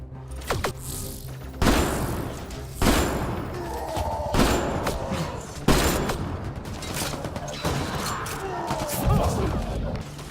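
Rapid bursts of gunfire from the video game Mass Effect Andromeda, loud and close, with repeated volleys and impacts over a dense game soundscape.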